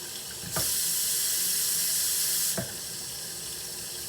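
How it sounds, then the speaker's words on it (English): Tap water runs into a cooking pot holding a roast with potatoes, a steady splashing hiss that swells as the flow is opened wider, then eases back, with no talking. "Fill it up with water."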